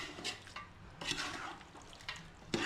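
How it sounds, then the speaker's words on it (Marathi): Chicken and spices fry in a pan for dum biryani: a faint, low sizzle with irregular scraping stirs and a few soft utensil knocks, no voices. "ह्याला मस्तपैकी मिक्स करू आणि थोडं असं थोड्या वेळ फ्राय होऊन देऊ"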